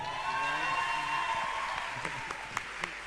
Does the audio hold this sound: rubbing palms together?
no